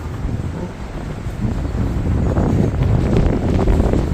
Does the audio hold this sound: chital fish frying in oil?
no